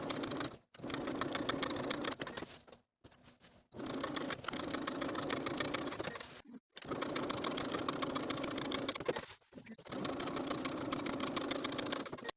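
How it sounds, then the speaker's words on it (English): A sewing machine runs in several steady bursts while top stitching the pressed edges of a pant pocket, a close, even mechanical whir broken by short pauses. "then we'll top stitch those pressed edges as we've been doing, first edge stitching and then top stitching again at 1/4 of an inch"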